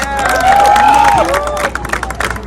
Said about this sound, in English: Let's give the Federation a round of applause.